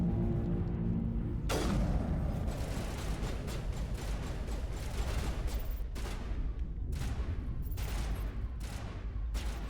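Sniper rifle shots ring out in the Mass Effect video game, a sharp blast followed by a rapid run of loud cracks and booms over a dense, continuous layer of combat noise.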